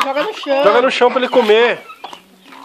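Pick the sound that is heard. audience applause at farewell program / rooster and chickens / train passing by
rooster and chickens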